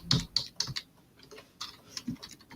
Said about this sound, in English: Can't work out from the sounds of your typing what your password is.